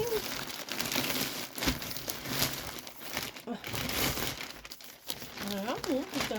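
A plastic sleeve, one tucked inside another, is handled and crinkled up close in bursts of crackling rustle, and a voice talks over the end.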